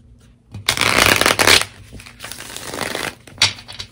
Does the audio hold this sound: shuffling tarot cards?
yes